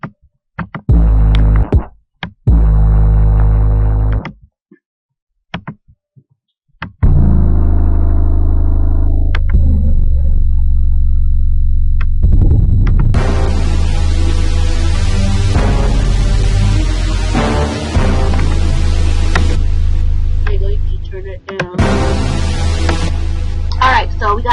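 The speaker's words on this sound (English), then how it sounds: "Alright, so we got our 808." Deep 808 bass notes of a trap beat boom in short separated hits, then settle into a long sustained rumble as brighter beat elements join; loud and close, with no voices.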